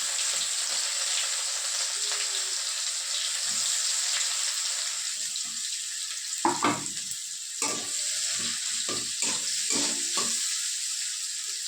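Onions dropped into hot oil with cumin seeds give a continuous, loud sizzle, then a series of sharper scraping and clattering stirs in the second half, with no talking.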